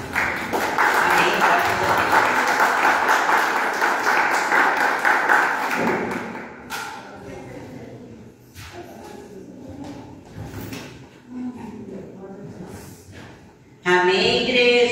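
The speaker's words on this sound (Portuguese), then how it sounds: "uma salva de palmas para o Senhor." Church congregation clapping fills the first several seconds, dense and steady, then fades into scattered taps and a voice talking.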